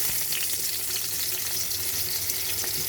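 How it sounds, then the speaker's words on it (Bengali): Potatoes frying in a pan for a bhola fish curry give a dense, steady sizzle and hiss that stays even from start to finish, close up and with no talking. "আলুগুলো একটু ভেজে নিচ্ছি"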